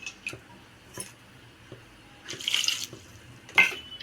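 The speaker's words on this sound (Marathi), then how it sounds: "अशा प्रकारे मी याच्यात पाणी टाकून घेत आहे" Water splashes into a pot of jackfruit curry in two short pours, with soft clinks and taps between them, close and fairly quiet.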